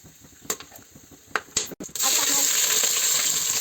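A few light metallic clinks come first. Then whole garam masala spices and a bay leaf drop into hot oil for egg biryani, and a sudden loud, continuous sizzle erupts and holds to the end.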